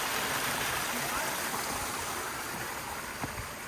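Clean water flows outdoors in autumn nature in Latvia, a steady broadband rush that fills the short stretch at close range with no break.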